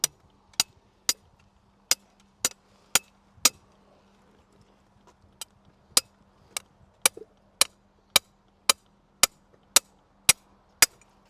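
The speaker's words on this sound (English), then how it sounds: "try and tap the sleeve out" Sharp metallic hammer taps on a core sample sleeve at a quarry dig ring out one after another at a steady pace, nearly twenty strikes with a brief pause partway through, close and crisp.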